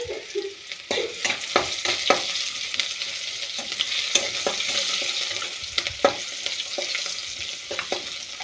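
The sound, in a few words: mustard seeds sizzling in hot oil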